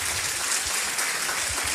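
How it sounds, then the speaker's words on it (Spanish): Loud, dense applause from an audience at a business opportunity meeting in Guadalajara, a brief burst of steady clapping. "Un aplauso fuerte, felicidades,"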